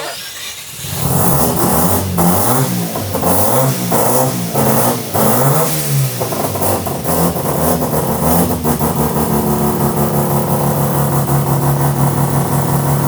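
A rough, loud Mazda RX-7 rotary engine revs up a few times, then settles into a steady, uneven drone close by, with no talking.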